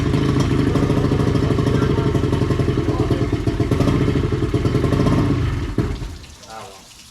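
A repaired boat motor runs close by with a loud, steady rumble and rapid pulsing beats. It carries on for several seconds, then a thump sounds and the engine noise drops away near the end.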